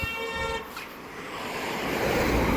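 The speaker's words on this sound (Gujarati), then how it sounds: "અહીંયા કોઈ હોરન મારે" A single short car horn toot sounds near the listener at the start, then fades into a steady wash of road traffic noise.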